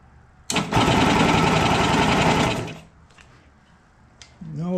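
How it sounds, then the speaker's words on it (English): A 1973 Yamaha AT3 motorcycle engine cranks with a makeshift starter in a loud, fast whirring burst of about two seconds that fails to catch, then quiet with faint clicks and a short voice at the end. "Turn the key on and hit my makeshift starter."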